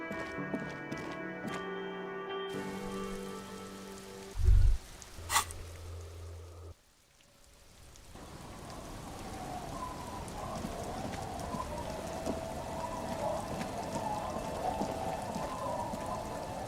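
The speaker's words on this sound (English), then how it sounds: "It's getting late, and it's raining." Steady rain patters and hisses in the video game Disco Elysium, taking over after a stretch of music and a brief quiet gap, then continuing as a dense, even wash.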